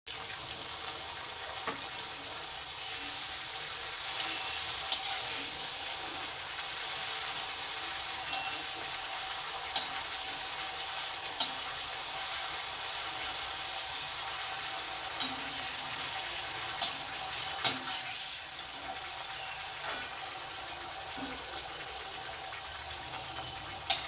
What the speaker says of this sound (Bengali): তেলটা যখন বেশ হালকা গরম হয়ে আসবে তখন সব পাপড়িগুলো আমি ভেজে নেব